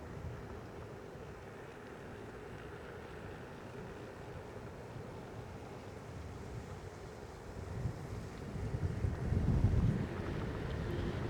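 Steady wind buffets the microphone of someone riding a Segway outdoors, a low, rumbling roar that gusts stronger toward the end. No voices are heard.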